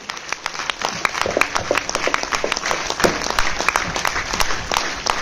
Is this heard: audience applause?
yes